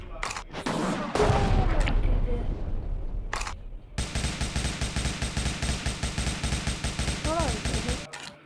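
Rapid machine gun fire in the video game Indian Theft Auto, a loud sustained stream of evenly spaced shots after a few scattered blasts and a rumbling burst, close and dense.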